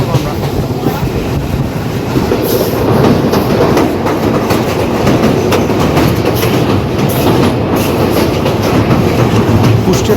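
A local commuter train rolls along the rails into Kushtia Court station with loud, continuous rumbling and rhythmic clickety-clack from the wheels, steady and close.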